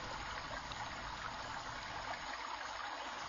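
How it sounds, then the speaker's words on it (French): Steady, even rush of flowing water, like a stream running continuously at moderate distance with no voices. "Observez le cours d'eau."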